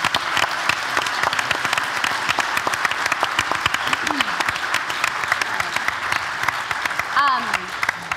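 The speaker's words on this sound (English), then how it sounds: "Will you stand up so we can applaud you?" An audience at a live radio storytelling event applauds radio staff and storytellers. The clapping is loud, sustained and crowded, with a voice faintly audible beneath it.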